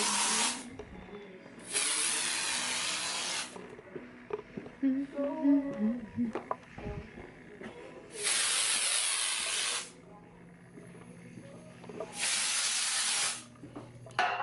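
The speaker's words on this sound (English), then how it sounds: "take my little air freshener and just spray the office a little bit" Three sharp bursts of air freshener aerosol spray hiss loudly in an office, each lasting a couple of seconds, with quiet shuffling and faint movement sounds in between.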